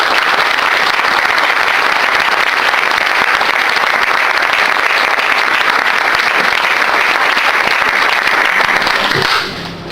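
A large audience at a church teaching session breaks into warm, sustained applause, a dense, loud wash of clapping that holds steady for nearly ten seconds before fading at the end.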